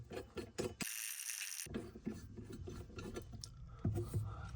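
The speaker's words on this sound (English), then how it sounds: "It's also a nice excuse to use my new ratcheting wrenches." A ratcheting wrench loosens a sink faucet fitting under the basin, with rapid close clicking bursts of the pawl, a brief harsh rasping pass, then more scraping metal clicks and rubbing.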